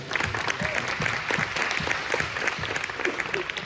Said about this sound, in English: How about a round of applause for the Senate?